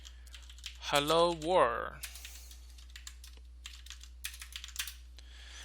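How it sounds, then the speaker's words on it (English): Keys clatter on a computer keyboard while editing in Vim, a brief spoken phrase followed by a run of quick, light, close keystrokes. "Let's just type Tomcat 8080"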